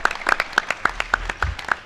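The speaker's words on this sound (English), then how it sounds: "Now, that's the part where you clap." Sparse clapping from a small audience at a talk, individual claps spaced unevenly and fairly close, with quiet gaps between them.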